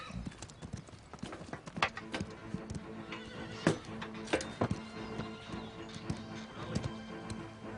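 Horse hooves clip-clop steadily near the listener, with a horse whinnying and neighing in sharp bursts over light background movement on a ranch with a headstrong horse.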